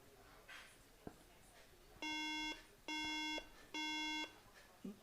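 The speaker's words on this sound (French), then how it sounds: "il bip 3 fois, comme ça, il se coupe, il rebip 3 fois" Three identical steady tones sound at power-on from a 2011 MacBook Air with faulty RAM, evenly spaced, preceded by faint clicks and light background noise.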